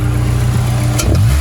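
A Honda S2000 engine revs up close and loud, a steady idle drone rising into a quick throttle blip near the end.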